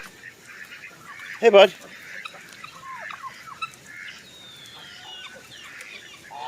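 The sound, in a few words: ducks or geese honking and clucking in the rain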